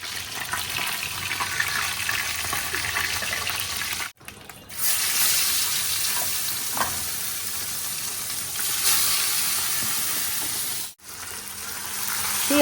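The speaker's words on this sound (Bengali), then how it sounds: "পেঁয়াজ আর আলুটাকে না একটু ভাজা ভাজা করে নিলাম" Onion and potato fry in a pan with a steady, crackling sizzle that runs on alone, with brief dips as the food is moved.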